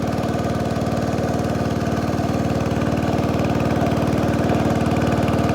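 A steady mid-pitched motor drones on a boat crossing a river in Thailand, running evenly throughout with a constant chugging throb, fairly close and loud, with no voices heard.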